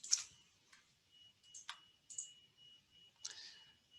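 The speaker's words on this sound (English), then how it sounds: "So I'm right-clicking on the two feature classes" Computer mouse clicks at a desk, several sharp, quiet clicks scattered irregularly, close by in a hushed room.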